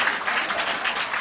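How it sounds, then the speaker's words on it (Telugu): Audience applause at a Haritha Andhra Pradesh tree-planting Vanamahotsavam event, a steady dense clapping from a crowd lasting about a second, loud and close. "గట్టిగా చప్పట్లు కొట్టి అభినందించండి"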